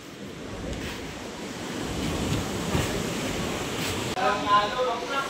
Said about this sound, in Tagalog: Malalaki ang alon.